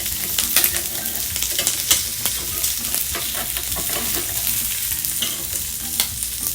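English breakfast okonomiyaki sizzles and spits loudly in a hot pan, a steady crackling hiss dotted with sharp pops and spatters, close up and continuous with no talking.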